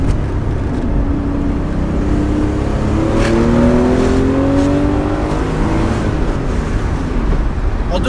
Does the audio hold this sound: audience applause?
no